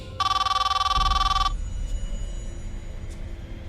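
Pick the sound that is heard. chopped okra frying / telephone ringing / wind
telephone ringing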